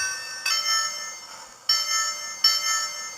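Bell of a Lionel LionChief James the Red Engine toy train, three bright metallic clangs ringing out alone at a steady pace, each decaying before the next strike.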